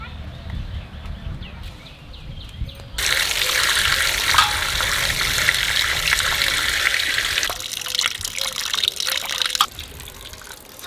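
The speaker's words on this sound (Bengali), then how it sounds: "আর ভালো করে ডলে ডলে ধুয়ে নিয়ে আসবো।" Running tap water gushes into a sink while fish are rubbed and washed by hand, a steady close splashing flow with brief lulls and shifts in intensity, under faint background voices.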